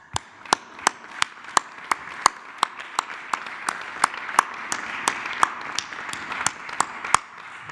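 Businessmen receive applause at a presidential press conference: steady, evenly spaced claps ring out sharply and close by, holding one rhythm throughout with no voices over them.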